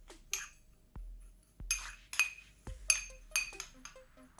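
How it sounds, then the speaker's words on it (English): A spoon stirring ground oatmeal and brown sugar scrub in a bowl, producing a series of quiet, close clinks and scrapes in irregular rhythm with soft thumps between. "I'm just gonna stir that in together."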